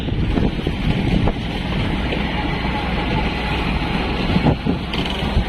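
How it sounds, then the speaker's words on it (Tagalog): A fishing boat engine drones steadily while circling at sea, wind buffeting the microphone, a continuous low rumble that holds at a fairly loud, even level throughout. "Paikot-ikot ang bangka ngayon"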